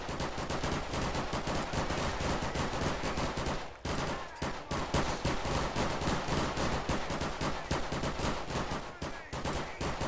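Dense, continuous gunfire from an NPC cops-versus-robbers fight in Garry's Mod, rapid overlapping shots and bursts running loud throughout with a brief dip partway through.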